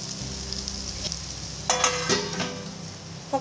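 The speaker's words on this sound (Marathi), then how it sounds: "आता आपण यावर झाकण ठेवूया आणि 2 मिनिटं भेंडी शिजू देऊया" Okra bhaji cooking in a pan under a lid, with a soft, steady sizzle and a few brief clinks and louder crackles partway through, no one speaking.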